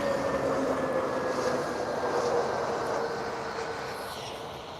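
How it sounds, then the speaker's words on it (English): A TAP Air Portugal Airbus A321 airliner roars past with a broad, steady rumble and a faint whine, loud at first and gradually fading, with no voices. "It's an Airbus A321."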